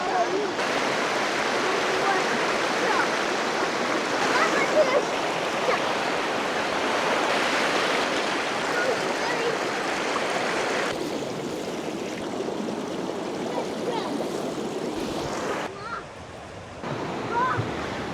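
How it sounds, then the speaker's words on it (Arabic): A river stream and waterfalls pour steadily as broadband rushing water, loud and continuous with some wind buffeting. "ومن هنا برضو تاني الشلالات بقى، هو نازل بقى من فوق وماشي لحد هناك"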